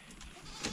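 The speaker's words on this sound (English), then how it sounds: "Look at them goats. They're ready for some food too." Goats on a farm bleat nearby in a short, continuous burst that swells near the end, with other livestock activity in the background.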